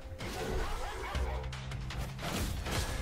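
A dog character barks in the video game Griftlands during a card battle, short gruff barks mixed with impact and combat effects over game music.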